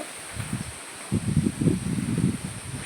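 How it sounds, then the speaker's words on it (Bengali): Gusty wind rushing past a village pond on a morning outdoors, coming in uneven rustling bursts at close range with low buffeting on the microphone, loudest in the second half. "সকালবেলা কিন্তু প্রচণ্ড হারে হাওয়া হচ্ছে"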